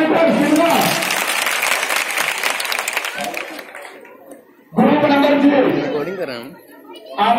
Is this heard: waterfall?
no